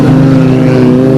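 Race cars roar past on an oval track during a heavily overlapped race, one loud, close, sustained engine howl with a steady pitch.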